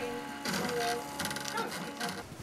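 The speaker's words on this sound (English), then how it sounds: "This 3D printer makes solid, strong plastic goods from designs that you've created yourself" A RepRap 3D printer extrudes plastic, its stepper motors whirring and buzzing in shifting tones with short mechanical bursts, close and continuous.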